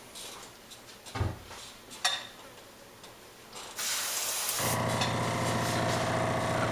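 Chartreuse paint spraying onto a jerkbait in a custom bait painting session, a few faint clicks and taps and then a steady close hiss of the spray that holds to the end.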